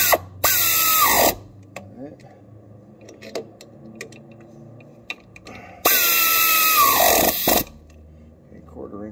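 An air ratchet on a Case CX37C compact excavator during its first maintenance gives two loud, sustained whirring bursts several seconds apart. Between them come quieter clicks and handling noises nearby.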